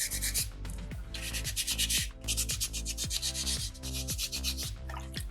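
Sandpaper rubs over a small soapstone shark carving in steady, repeated strokes, close and fairly loud, over rhythmic background music.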